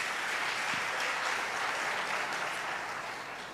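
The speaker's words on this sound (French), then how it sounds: "il faut l'applaudir très fort" Audience at an Ivorian political gathering applauding strongly, a dense sustained wash of clapping that fades slightly toward the end, with no speech over it.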